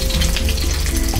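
Garlic, ginger and Chinese onions stir-fry in a wok, making a loud, dense sizzle close up with a bubbling crackle throughout a brief moment, with no voices.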